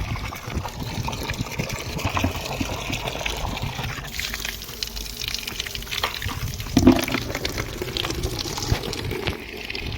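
Water drawn from a nearly dry well and poured for watering plants in hot sun gushes and trickles steadily and fairly close, with a brief louder splash partway through.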